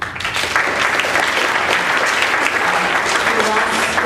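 A large audience claps steadily in a hall, loud and sustained applause that continues evenly throughout with no break.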